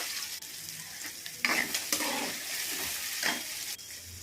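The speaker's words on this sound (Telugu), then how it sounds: "అవి బాగా ఫ్రై అయిన తర్వాత వంకాయ ముక్కలు కూడా వేసుకొని ఫ్రై చేసుకోవాలి." Brinjal pieces fry in hot oil with onion, green chilli and tomato, giving a steady close sizzle broken by a few louder stirring scrapes; no voices.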